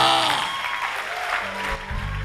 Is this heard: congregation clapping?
yes